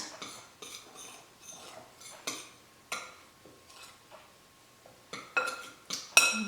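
A utensil mashes and mixes almond flour in a bowl, producing a quiet run of irregular scrapes, taps and light clinks spaced a fraction of a second apart.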